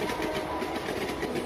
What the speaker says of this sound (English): The train rolled in, taking them toward an exciting adventure.